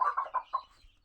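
Hens near laying age clucking in a short burst of four close, distinct calls that fade to quiet, with no talking.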